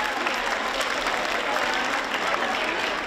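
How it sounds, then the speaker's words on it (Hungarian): At a Hungarian women's carnival evening, the hall applauds the raffle donors with a full, sustained wash of clapping from a large crowd, loud and even from start to finish. "Nagy tapsot a tombola felajánlóknak is"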